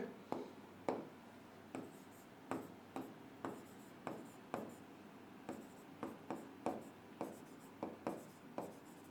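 A pen scratches across paper in short, regular strokes, about twenty over nine seconds, soft and close, with quiet gaps between marks and no talking.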